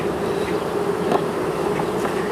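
Honey bees buzzing steadily around an open hive during a honey super swap, a continuous close drone of many insects with no talking.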